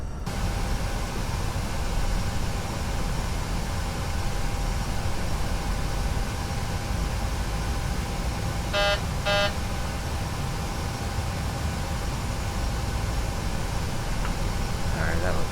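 Steady, broadband jet engine roar from a PMDG Boeing 737 in Flight Simulator X during a run-up test at about 45% power, a constant droning hum with a brief chime partway through and a voice talking over it.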